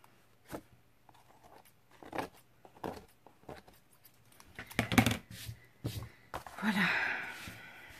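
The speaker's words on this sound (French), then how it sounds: "si ça déborde sur l'arrière, on vient découper aussi" Scissors cut away overhanging material at the back of a handmade thank-you craft piece, giving several short close snips and rustles spread over quiet moments, with a louder crinkly burst near the end.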